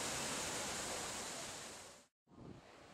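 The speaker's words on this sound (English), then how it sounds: "a continuous water flow which fascinates all who behold it" The La Fortuna waterfall roars as a broad, continuous rush of falling water, loud and unbroken, then drops out briefly before returning.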